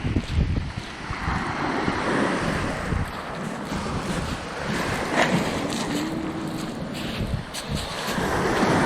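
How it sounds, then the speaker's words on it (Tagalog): Ocean surf rumbles and washes continuously while wind buffets the microphone, with a low churning roar that swells toward the end. "Basta malalaking alon mga katangay."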